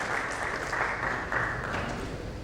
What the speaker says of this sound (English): A big round of applause to Neelakshi for a wonderful contribution in the panel session.